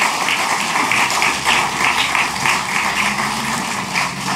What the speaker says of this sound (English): Shall we all give another round of applause to our award recipients today?